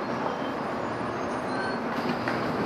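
A subway train carrying a morning commuter rolls along the rails, making a loud, continuous rumble with a steady wash of noise and a faint high wheel squeal, heard from inside the car.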